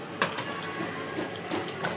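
Water runs from a kitchen tap while raw chicken is washed, a short, close, splashing stream with a few small knocks and clatters.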